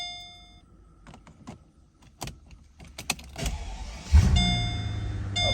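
A Mercedes SL600 V12 is heard after a few clicks and dash chimes: the starter catches and the engine fires with a sudden deep surge, then settles into a steady low rumble close by.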